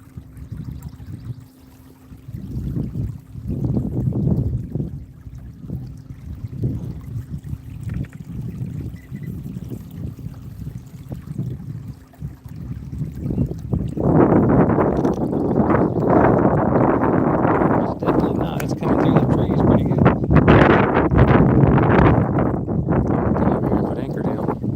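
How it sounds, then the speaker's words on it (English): Wind pushes across open water around a small fishing boat near a bank, a steady rushing hiss with low rumbling buffets that grow stronger and louder in the second half. "the wind will start pushing me into this bank"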